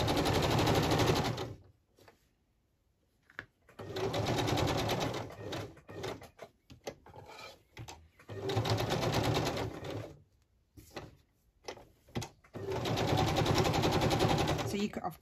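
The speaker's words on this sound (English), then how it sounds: "Of course, you can slow stitch this by, you know, stitching them down by hand, or you can go a bit faster and do it with the machine" A sewing machine stitches fabric appliqué onto ticking in several loud, rapid bursts of a few seconds each, separated by pauses with quieter handling of the fabric.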